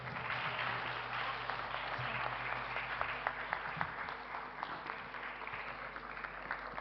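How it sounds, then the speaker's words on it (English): Audience applause at an ITV Network awards conclave in Rajasthan, a dense steady wash of many hands clapping with a few sharper claps poking through, filling the hall throughout. "Round of applause, ladies and gentlemen."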